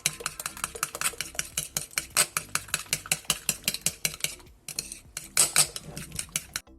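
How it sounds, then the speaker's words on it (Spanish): Quick rhythmic whisking of cheesecake batter with a drop of liquid vanilla in a bowl, a steady run of close, sharp clicks and scrapes, briefly pausing then resuming, with no talking. "vamos a mezclar muy bien hasta que todo esto esté hecho una masa bien homogénea"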